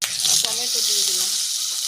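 Tomatoes hit a hot pan already holding garlic, green chillies and curry leaves, giving a loud, steady close-up sizzle that flares at the start as they drop in, with a soft stir or clatter near the beginning.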